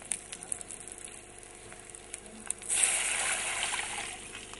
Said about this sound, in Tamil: நல்லா கொதிக்க விடணும்.